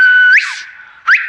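A phrase in Silbo Gomero, the whistled language of La Gomera, comes as a clear, close, loud whistle. It holds a steady tone, rises and then glides away, with a second rising swoop after a short gap.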